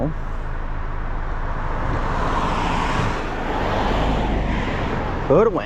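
Slow traffic rolls along the road in a steady, moderate rumble of car engines and tires, with one vehicle swelling slightly louder near the end.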